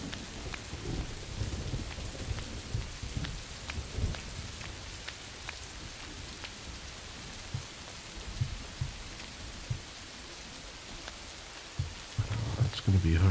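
Steady rainfall in the video game Rising World, a soft continuous patter with faint low rumbles like distant thunder, heard alone without speech.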